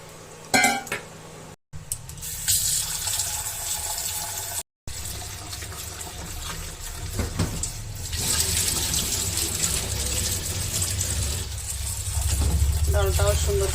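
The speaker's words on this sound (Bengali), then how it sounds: "ডালটাও সুন্দর করে ধুয়ে নিয়েছি।" Tap water runs steadily into a vessel as lentils are washed in a home kitchen, a continuous splashing flow with brief interruptions and some background noise.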